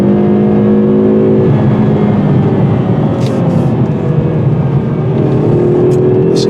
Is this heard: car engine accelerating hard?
yes